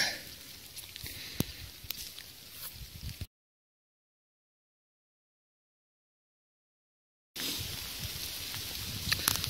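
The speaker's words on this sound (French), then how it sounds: "il pleut à plein temps là" Rain pattering steadily on leaves and the ground in a forest, a broadband hiss with scattered drops, interrupted by a stretch of total silence before the downpour resumes.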